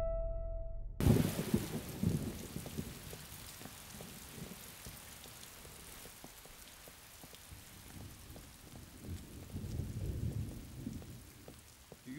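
Heavy rain with thunder in a storm, opening with a loud thunder crack after a brief silence, then a dense steady downpour pattering on surfaces with low rumbles swelling again near the end.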